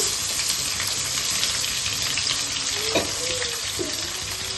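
Onions sizzle and fry steadily in a pan with oil after green chillies, a continuous bright hiss with occasional soft stirring scrapes.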